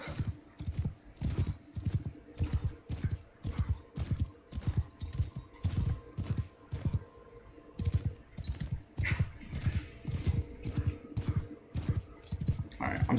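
Hooves pounding in a rhythmic galloping beat from a horse in the medieval combat video game Mount & Blade II: Bannerlord, played on the hardest difficulty, steady and fairly close throughout.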